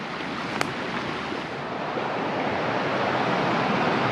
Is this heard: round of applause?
no